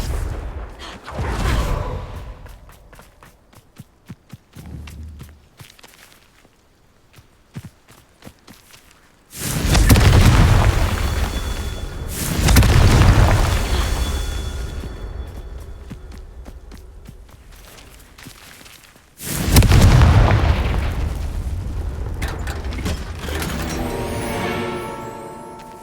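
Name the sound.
Confringo fire spell explosions in video game Hogwarts Legacy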